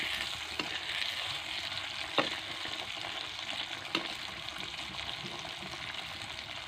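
Green chillies and curry leaves frying in a pan give a steady, close hissing sizzle with a few sharp crackles and pops scattered across it, and no one speaks.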